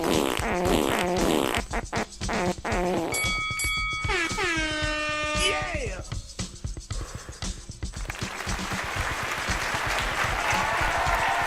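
A comedic fart sound effect with a descending pitch sweep, loud and up front among a busy, dense mix of other noisy sound effects.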